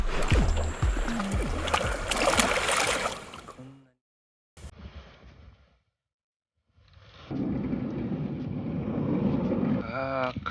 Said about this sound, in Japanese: あー、風強いな。